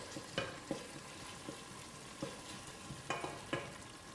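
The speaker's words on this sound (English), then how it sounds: "I'm frying them on low heat so that they can really get really fried" Tomatoes fry gently in a pan over low heat for fufu corn and njama njama, a steady soft sizzle broken by several sharp scraping stirs spaced through the stretch, with no voices.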